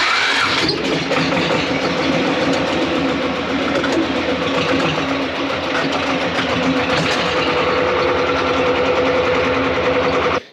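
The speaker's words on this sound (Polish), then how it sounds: "Wyjadę pierwszy ciągnikiem." A tractor engine runs loud and close as the machine pulls out, a continuous rough drone with a whining edge that holds steady for about ten seconds before cutting off abruptly.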